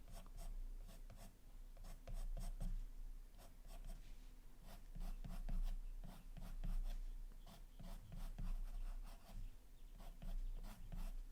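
Colored pencil shading on paper, steady close scratchy strokes in a quick repeating rhythm, soft and continuous with brief pauses between passes.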